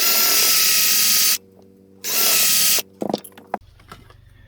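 Power drill boring into an amplifier chassis: two loud sustained bursts of whining motor and cutting, separated by a short pause, then a few clunks and rattles as the drill is set down.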